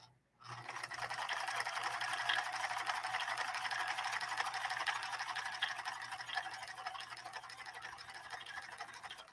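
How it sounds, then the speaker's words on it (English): A Japanese Kenmore sewing machine runs a straight stretch stitch, giving off a steady, continuous mechanical whir that lasts the whole time without pausing. It is fairly quiet and close, and no one speaks over it. "Let's check out this straight stretch stitch."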